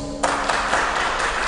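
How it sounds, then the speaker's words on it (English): Brief burst of audience applause at a conductor masterclass symposium, starting sharply after a quiet instant and continuing densely for just over a second. "Give them a round of applause."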